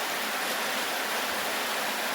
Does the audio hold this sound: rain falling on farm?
yes